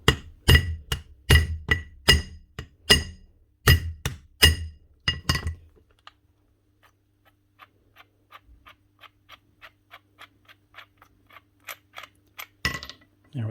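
A hammer knocks repeatedly on a jammed part of a power tool under repair, about a dozen sharp metallic clinks in an uneven rhythm, followed by quieter small taps and handling noises.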